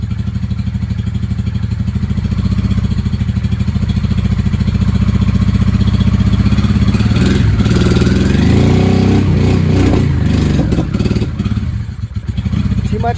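A 1995 Honda Shadow VLX 600 (VT600CD) motorcycle engine with freshly reworked carburetors runs close and loud, a pulsing idle that rises into revving surges partway through before it settles back down.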